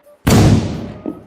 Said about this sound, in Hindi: ये पटाखे कौन बजा रहा है?